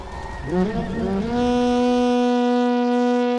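War horns of the Armada sounding an assault in the Battle for Middle-earth 2 strategy game: a deep, sustained brassy blast that rises in pitch and then holds loud and steady, with no speech over it.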